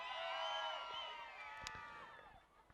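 A Zambian crowd roars and cheers in a stadium during a play-off match, a dense sustained wall of voices with whoops, loud at first and easing slightly toward the end.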